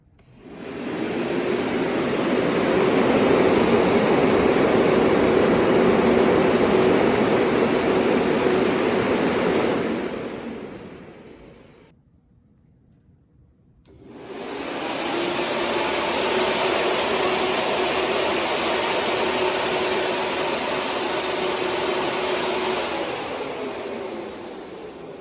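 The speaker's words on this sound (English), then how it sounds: "I'm hoping this new fan, despite being smaller, is able to cool the engine as well" A car's engine cooling fan, a new smaller replacement, makes steady, loud whooshing noise continuously, cuts out briefly for a couple of seconds, then resumes at a slightly lower, even level.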